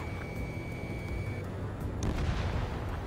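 Missile explosion destroying a ground target in the Ace Combat 7 flight combat game, a heavy rumbling boom that swells near the end over a steady roar of jet noise, with no talk.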